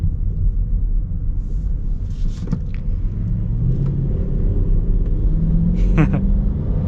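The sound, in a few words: Chrysler 300S V8 engine revving in sport mode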